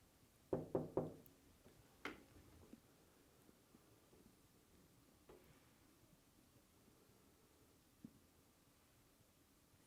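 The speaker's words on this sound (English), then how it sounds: "Could you knock like this?" Knocking on a wooden wardrobe door in a reputedly haunted room at Bolling Hall: a quick burst of three close knocks, followed by a few isolated faint taps and thuds spread over a quiet background.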